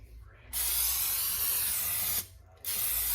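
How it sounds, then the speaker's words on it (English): Cooking spray sprayed onto a casserole dish or baking pan: two bursts of close, loud hissing aerosol, a long one and then a short second spray after a brief pause. "just give it a good spray."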